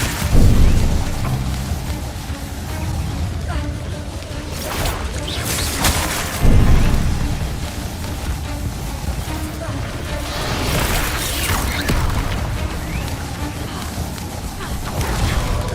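Incendio and Confringo spell blasts boom and crash repeatedly in the Hogwarts Legacy video game, with whooshing bursts and heavy thuds layered over a dense, loud combat din.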